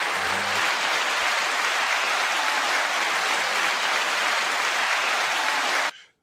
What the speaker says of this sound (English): 9 second applause to you all